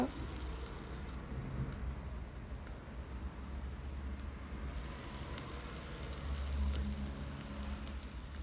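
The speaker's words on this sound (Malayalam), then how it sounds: "അരിഞ്ഞു വെച്ച സവാളയും കൂടി അതിലേക്കിടുക" Chopped onions go into hot oil with garlic in a pan for a chickpea curry, giving a steady, even sizzle and crackle close by that runs throughout with little change.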